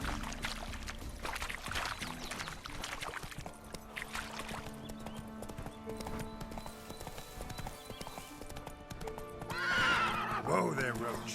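Roach the horse in The Witcher 3 video game: rhythmic galloping hoofbeats with clattering and water splashes, ending in a loud whinnying neigh near the close, with game music and voices underneath.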